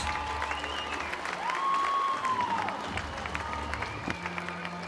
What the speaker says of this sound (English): how about a big, big round of applause for our Yeti contenders?